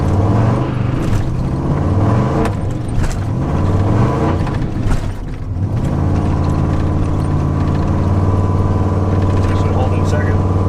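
A worn-out Ford F250 pickup engine labours steadily while the truck struggles to gain speed, a continuous loud drone with rising and falling harmonic tones, slight shifts around gear changes, and a voice talking over it.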